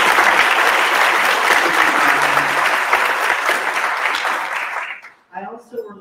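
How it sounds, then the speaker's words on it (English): An audience at a professional talk gives a loud round of applause, dense clapping sustained for about five seconds before it fades out and a voice begins speaking. "he deserves a huge round of applause for that"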